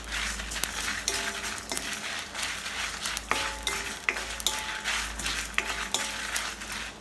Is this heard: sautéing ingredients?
yes